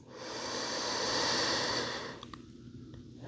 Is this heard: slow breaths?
yes